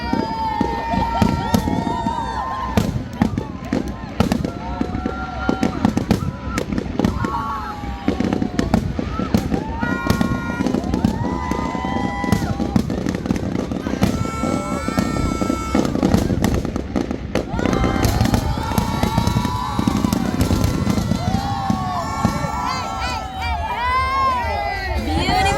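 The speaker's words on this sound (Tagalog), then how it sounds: "fireworks for 30 minutes dito sa Boracay Island" A New Year fireworks display over Boracay Island in the Philippines crackles and bangs continuously, with dense popping, whistling shells and rapid bursts mixed with crowd chatter and cheering.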